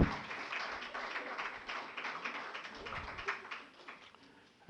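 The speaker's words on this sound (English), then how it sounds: "A big round of applause, please." Audience applause welcoming author Ranjith Radhakrishnan at a book club meet-and-greet, several seconds of continuous, moderately loud clapping that slowly tapers off.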